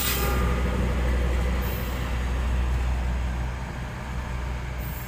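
A train rolls through level crossing JPL 5 at Ambengan, Surabaya, making a loud, continuous low rumble and roar close by that holds steady for the whole stretch.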